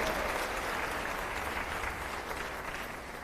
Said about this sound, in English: So we give a round of applause for our sponsors.